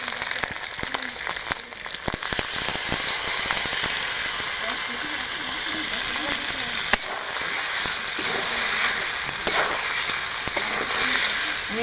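Marinated spice paste for a vegetarian cauliflower roast (fulkopi roast) hits a hot pan and fries with a steady, loud sizzle and crackle, with a few sharp pops and clacks of a utensil throughout.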